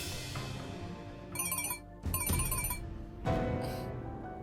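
A telephone rings in bursts of a bright electronic trill, several rings separated by short gaps, over a full room ambience, with no talk.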